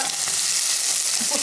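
Steady, loud sizzling of onion frying in hot oil in a pan, a continuous crackling hiss with no voices.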